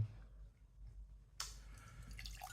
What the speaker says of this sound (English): Pour it out.